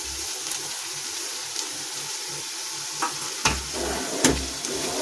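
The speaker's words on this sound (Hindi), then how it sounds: "अब मैं इसमें ये आलू डाल दूंगी मसाले समेत ही।" Spiced potatoes are stirred into a frying samosa filling with ginger and green chilli, a steady soft sizzle broken by a few louder scrapes and thuds of the spoon near the end, close and without speech.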